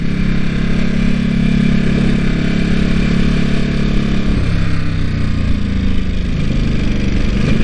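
A motorcycle rides along Yabitsu Pass on Japan's Route 70, its engine droning loud and close with a steady low rumble that drops in pitch partway through as the rider eases off for a corner.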